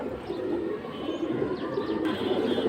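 Large silver pigeons coo in low, throaty repeated calls, close and steady, with a few higher chirps and a general background hum of a pigeon market.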